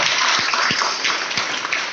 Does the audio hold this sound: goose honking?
no